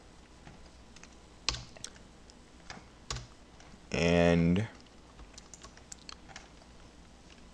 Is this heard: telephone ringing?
no